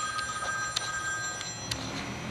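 A telephone rings in short repeated trilling bursts over a steady background hum, with no one speaking.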